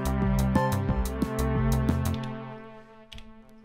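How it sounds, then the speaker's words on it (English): Kicks and snares programmed on an Elektron Digitone synth play a steady, punchy drum loop. Snappy hits land on a regular beat over booming low thumps with a tonal ring, then fade into a decaying tail near the end. "So I'm going to just key in some kicks and snares here."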